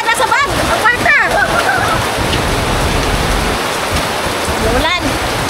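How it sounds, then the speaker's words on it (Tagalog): Steady heavy rain pours and splashes on surfaces close by, a constant hiss, while excited voices shout over it at several points. "Ulan!"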